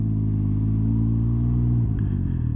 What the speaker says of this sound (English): it would make a noise coming from like either the engine or the CVT.